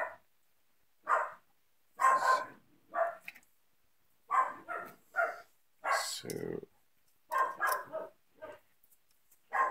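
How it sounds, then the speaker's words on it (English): Dogs barking in repeated short bursts, several close barks and yips spaced irregularly, with a brief bit of speech between them. "There's my lovely dogs."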